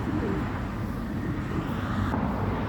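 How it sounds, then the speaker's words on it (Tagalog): Pigeons and other birds outdoors in a city, feeding on fruit, give faint calls under a steady wash of outdoor background noise and distant traffic. "ang saya ng mga ibon"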